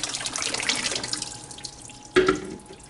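Wet seed ball mixture being poured into a colander at a sink, with a soft running, trickling wash of water and a brief louder splash near the end.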